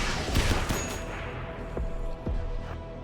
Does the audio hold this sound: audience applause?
no